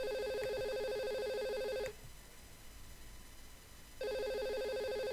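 A phone rings with an incoming call, a repeating electronic ringtone that plays for about two seconds, goes silent for two seconds, then starts again, loud and close with no talking.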